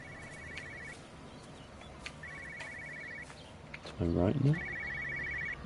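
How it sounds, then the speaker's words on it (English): A telephone rings in the video game Everybody's Gone to the Rapture, repeated short electronic trills recurring at steady intervals, moderately distant, under a voice and ambient game noise. "I hear another phone."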